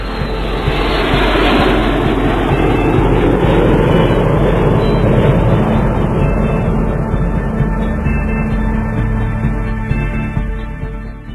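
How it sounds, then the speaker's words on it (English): Steady broadband roar of a fixed-wing aircraft in flight, with airflow turbulence rushing off the wing edges, loud and continuous, fading slightly toward the end. "Miniature whirlwinds behind the wing caused by the turbulence produce noise."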